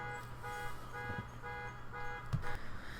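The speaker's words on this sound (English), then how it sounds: "god damn, those alarms. What is going on?" Car alarms go off outdoors in a city, a steady electronic tone with faint honks and buzzes underneath, muffled as if heard from inside, with no talking.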